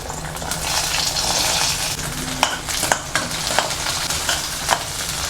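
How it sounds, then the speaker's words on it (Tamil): Garlic and small shallots fry in hot oil in a pan for a ridge gourd peel chutney, sizzling steadily while a spoon scrapes and stirs with several sharp clinks. "இப்போ கட் பண்ணி வச்சுருக்க சின்ன வெங்காயத்தை போட்டுக்கலாம்"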